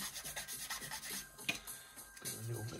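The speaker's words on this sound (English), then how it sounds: "Little bit of sandpaper, sanding pad." A sanding pad with sandpaper rubs on a plastic part of an Italeri 1/32 Tornado GR4 model kit, soft scratchy strokes heard up close and quiet.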